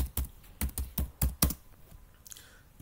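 A computer keyboard clatters as an SQL query is typed, with about eight close, crisp keystrokes in an uneven rhythm and then a quieter pause.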